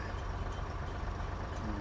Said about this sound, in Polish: Silnik ma odpalony.